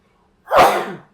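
A single sharp sneeze, close and loud, bursting out after a moment of quiet and trailing off quickly.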